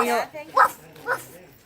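A person vocally imitates a dog barking, giving a few short, close, yipping woofs in quick succession.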